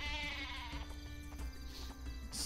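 Sheep weapon in the Worms video game giving a loud, continuous bleat lasting a couple of seconds, up close and alone.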